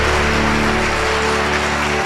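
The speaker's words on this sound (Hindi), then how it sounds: "परमेश्वर के प्रेम के लिए एक जोरदार ताली हम लोग" A church congregation claps together in a dense, steady burst of applause that fills the short stretch evenly, loud and close, with no voices over it.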